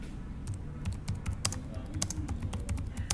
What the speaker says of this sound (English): are we still together, please, while I'm typing this?